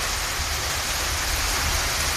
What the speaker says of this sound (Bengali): এখানে তুমুল বৃষ্টি হচ্ছে, দেখুন তুমুল বৃষ্টি।